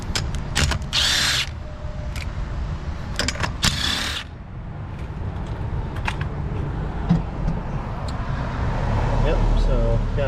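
A power tool takes a wheel off a BMW E30 with a dual-caliper brake setup, giving two short, loud mechanical bursts early on, followed by quieter garage noise.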